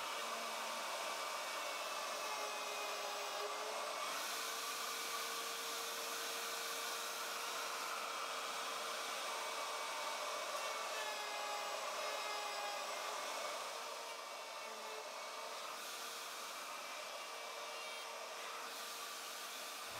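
Wood router cutting a groove in a wooden board to fit lazy susan hardware, a loud, steady high-pitched whine that runs unbroken for about twenty seconds with no talk.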